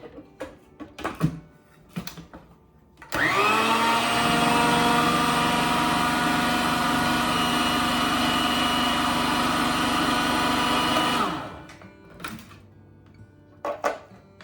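An electric mixer blends sweet potato pie filling with vanilla, starting abruptly and whirring loudly and evenly for about eight seconds before winding down, with scattered clanks and handling noises before and after.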